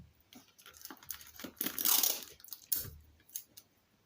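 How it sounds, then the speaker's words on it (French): Adhesive paper tape being pulled off a roll and torn while decorating a small kitsch Christmas tree, with a close crackling rip swelling in the middle and a few shorter tears after, no talk. "je vais mettre du scotch"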